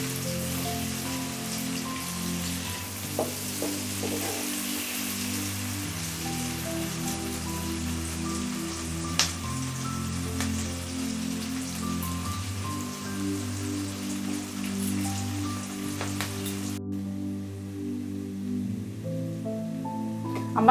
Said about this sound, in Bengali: ভাজা হয়ে গেছে, এখন আমি তুলে নিচ্ছি